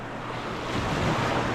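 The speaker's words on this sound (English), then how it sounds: "The waves aren't as high as it was back there" Ocean surf rolls in at Boca Chica Beach on the Lower Laguna Madre, a steady, moderately loud wash of breaking waves swelling slightly toward the end, heard alone with wind.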